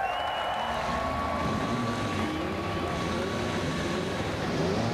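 IndyCar race car engines fire up at the Milwaukee Mile oval for the 2013 Milwaukee IndyFest, making a continuous, distant droning roar with rising whine tones that holds steady throughout.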